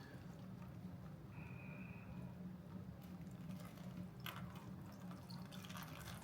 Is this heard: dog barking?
no